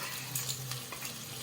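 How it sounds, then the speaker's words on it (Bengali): Chopped onions fry in hot oil on a low flame for beresta, giving a soft, steady sizzle with faint stirring scrapes, close and fairly quiet. "এবার পেঁয়াজ কুচি আমি দিয়ে দিচ্ছি বেরেস্তা বানানোর জন্য"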